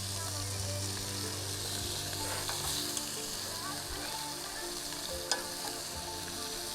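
Shrimp and steak sizzle in a pizza oven with a steady, close frying crackle and a few louder pops, continuous throughout and without talk.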